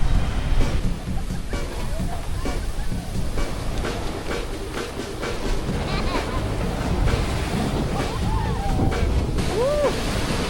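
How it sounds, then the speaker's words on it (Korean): Ocean surf breaks and rushes at a beach in Nha Trang, Vietnam, a steady roaring wash mixed with gusting wind noise on the microphone, with a voice faintly present near the end. "파도가 장난 아니네?"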